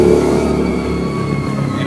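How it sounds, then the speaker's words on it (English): A loud bus screams past on a street, a strained, revving engine whine with a rising and falling pitch, close and steady for the whole moment without voices. "I wait till the screaming bus goes by"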